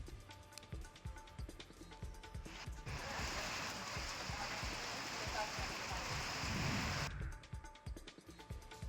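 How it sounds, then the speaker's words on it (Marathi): Heavy monsoon rain falls in Shahuwadi, Kolhapur, a loud, steady roar lasting about four seconds between stretches of background sound. "कोल्हापुरात शाहूवाडीत मुसळधार पावसानं हजेरी लावली आहे"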